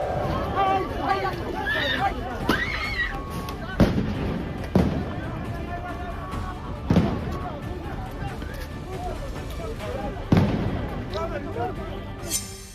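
Stun grenades going off during a night-time lockdown protest and clashes in Bnei Brak, east of Tel Aviv: several sharp, loud blasts at irregular intervals over a crowd's shouting and babble.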